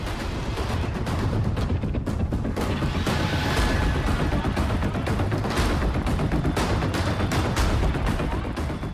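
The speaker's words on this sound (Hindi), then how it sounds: "मौजूद I-20 कार में ब्लास्ट हुआ और धमाके के साथ ही शोले आसमान छूने लगे।" A car bomb explodes in a Hyundai i20 near Delhi's Red Fort, a loud, sustained roar of crackling blasts and debris, dense and continuous throughout with sharp bursts breaking through, close by.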